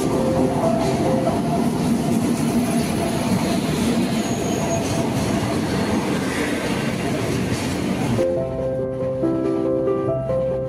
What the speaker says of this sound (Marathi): आली आता फायनली ट्रेन।